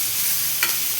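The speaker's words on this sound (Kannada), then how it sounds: "ಹುರಿಯುತ್ತಿದ್ದೀನಿ." Onions fry with turmeric, coriander and chili powder in a pan for South Indian potato palya, giving a steady hiss with a brief stirring scrape midway, close and fairly loud.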